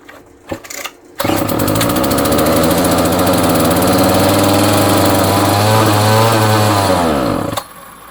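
A Homelite string trimmer engine starts after a few small knocks and runs loud and close with a buzzing two-stroke drone, wavering in pitch before cutting off near the end.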